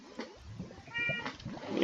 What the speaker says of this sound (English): That's a kitten.